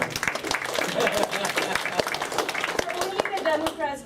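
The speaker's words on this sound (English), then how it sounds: "Democrats clap for that one." Audience applause at an award celebration, a sustained burst of clapping from a crowd with voices mixed in throughout.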